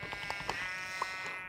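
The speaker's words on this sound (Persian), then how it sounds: "آخشان گوسفند." Sheep bleat in the video game Minecraft, a few short, nasal in-game calls repeating at irregular intervals over a quiet game background, with no talking.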